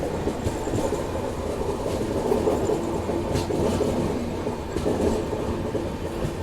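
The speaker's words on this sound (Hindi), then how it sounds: "10 मिनट बिफोर टाइम हमारी ट्रेन पहुंच रही है नागदा जंक्शन" The Shanti Express rumbles and clatters along the rails at night as it approaches Nagda Junction, a steady close rolling drone of wheels and carriage noise with faint rhythmic clicks and no voices.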